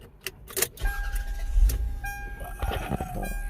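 A Lexus engine cranks and catches on a newly programmed key, with a short jingle of keys first, then a steady idle rumble. No voices are heard.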